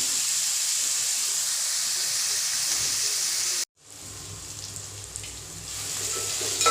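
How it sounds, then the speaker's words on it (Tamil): Ingredients sauté in a pan for a Tamil egg curry, giving a continuous close sizzle and steam hiss that cuts out briefly midway and then resumes slightly softer. "இது வதங்கட்டும்"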